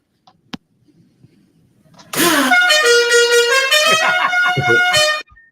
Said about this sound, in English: This is the correct sound of the General Lee horn.